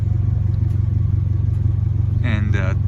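A 2022 Subaru WRX burbles at a steady, low idle through an ETS muffled exhaust with a large double-walled outlet, a deep continuous drone heard up close.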